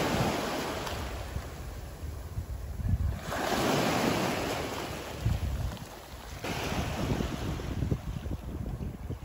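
Waves wash over a rocky sea glass shore in a steady, close roar of surf that rises and falls in surges, with wind buffeting the microphone and no talking.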